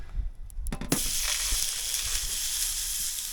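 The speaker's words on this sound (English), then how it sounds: "Now, let's get the frying pan on." A hot frying pan on a camp stove, its base still wet with melting snow, breaks into a loud, steady sizzle after a few clicks and clanks, and the hiss carries on close and unbroken.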